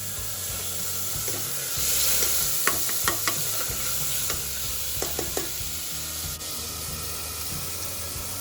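Ginger sizzles in a hot pan in a home kitchen while a spoon stirs it, giving a steady close frying hiss with a few sharp scraping clinks of the spoon against the pan.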